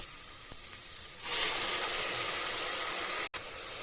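Onions frying with ginger-garlic, cinnamon, clove and chilli masala paste for mushroom biryani, a loud steady sizzle that surges up after a quieter start and continues close by.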